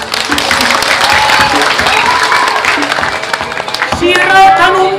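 Audience applause fills the room at a Balinese drama gong performance in Gianyar, a dense steady clapping wash with some crowd noise, and a few rising tones near the end.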